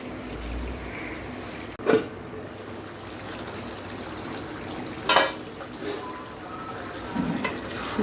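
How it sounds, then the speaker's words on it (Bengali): Potatoes and meat sauté in a pan, a soft steady sizzling hiss broken by a few sharp clinks of a utensil against the pan, heard up close. "আমি মাংসের সাথে আলুটা একটু কষিয়ে নেব।"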